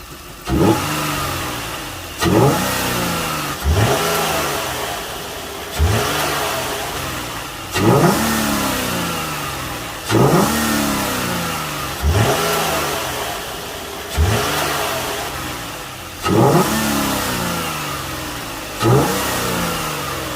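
A 2002-2003 Nissan Maxima engine fitted with an Injen cold air intake revs repeatedly, about nine sharp throttle blips at steady intervals, each roar dropping back toward idle, close and loud with a raspy intake note.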